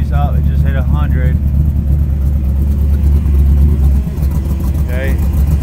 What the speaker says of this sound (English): I don't know if you can hear it yet, but my pump is whining.